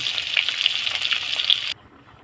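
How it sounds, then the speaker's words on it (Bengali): Snakehead fish fries in hot oil with a bright, crackling sizzle, close and steady for under two seconds before cutting off abruptly to near silence. "আমার মাছটা ভালো মতন ভাজা হয়ে গেছে"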